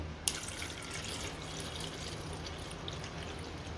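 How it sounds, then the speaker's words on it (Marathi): Water poured into a pot of washed lentils for dal, a soft continuous splashing flow after a brief knock, quiet and close with no talking. "आता यामध्ये आपण पुरेसं पाणी घालायचं आहे"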